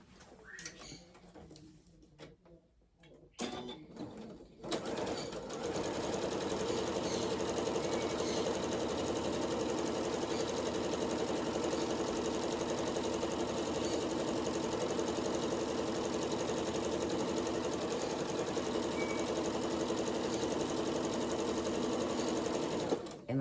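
A sewing machine stitching garment seams runs in a steady continuous whir for most of the stretch after a few seconds of quieter handling and stop-start sounds.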